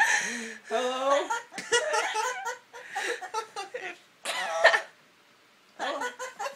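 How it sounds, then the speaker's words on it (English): Dixie, a pet parrot, gives a run of raspy, cough-like bursts mixed with chuckling, laugh-like sounds, close and fairly loud, then a short pause before another burst. "He's coughing."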